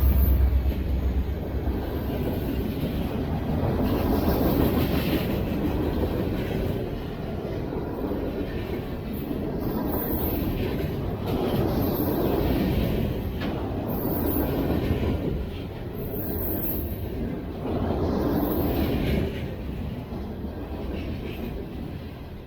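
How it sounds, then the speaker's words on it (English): A freight train carrying NASA SLS solid rocket boosters, pulled by Shuttlewagon trackmobiles, rolls past in a steady loud rumble with periodic swells as cars pass, close by and uninterrupted. "And here's another angle of the train passing."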